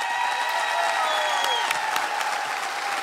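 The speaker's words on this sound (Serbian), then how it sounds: "Šemsa, dobila si i sigurna sam da čuješ ovaj veliki aplauz." A studio audience at a television talent-show finale applauds in a dense, steady wash of clapping that holds evenly throughout at fairly loud level, with no voices on top.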